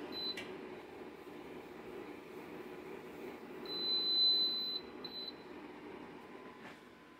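A thin, steady electronic beep tone sounds for about a second midway, faint over a quiet room hum, with no talking.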